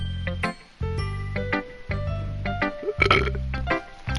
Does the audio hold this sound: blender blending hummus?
no